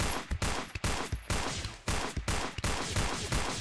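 Rapid bursts of gunfire ring out in Space Station 14 as a magazine is emptied, the shots coming in quick, closely spaced volleys of moderate loudness.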